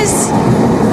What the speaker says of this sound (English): It's a very long SkyTrain